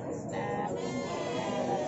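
Domba gembel sheep at a livestock market bleat faintly, a short quavering call rising over background murmur and market noise.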